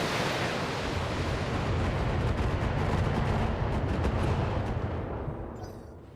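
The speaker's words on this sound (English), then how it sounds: "Firing all weapons." Mech firing all its weapons at once in Battletech, a dense roaring barrage of heavy blasts and booms that holds for several seconds before fading out.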